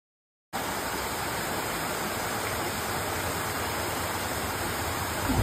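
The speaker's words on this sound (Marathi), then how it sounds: "आपल्याला 2 धबधबे एकत्र होताना दिसतात" Two waterfalls meet near the Rajmachi trek route by Lonavala, their roar a steady, loud broadband rush with no pause, close and unbroken from start to finish with no voices over it.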